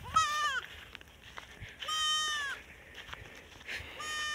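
A goat bleats three times in a quiet outdoor rural setting near paddy fields, with short, nasal, wavering cries spaced a second or so apart.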